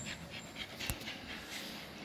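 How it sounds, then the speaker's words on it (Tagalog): A dog pants rapidly and heavily after moving into a new house in the Laguna mountains, a rhythmic breathy sound heard close against faint background noise. "Hingal na hingal na."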